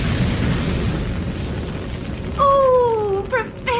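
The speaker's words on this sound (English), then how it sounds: "Now fire those more modern-looking rockets." Rocket engines firing as a sound effect in a BBC radio sci-fi comedy: a loud sustained roaring rush, then descending whistling tones and sputtering bursts near the end.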